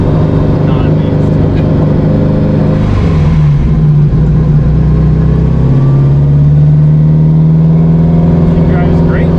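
A heavily modified Subaru STI with a stock transmission and about 1100 horsepower accelerates loudly, its engine droning and rising in pitch as it pulls away from close by.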